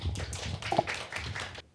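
Audience applause at a civic-education talk show panel, a burst of clapping from a seated crowd lasting under two seconds before fading out abruptly.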